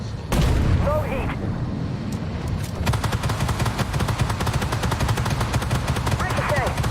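A tank shell ricochets amid heavy armored combat in the video game Armored Warfare, with a sharp impact followed by dense, loud rattling gunfire and explosions continuing throughout.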